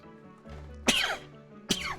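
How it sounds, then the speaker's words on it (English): Two sharp, forceful sneeze-like bursts come in close succession from a nearby person at a hobby workbench. Each is loud and explosive, with a short lead-in breath before the first. "Oh, I feel a sneeze coming on."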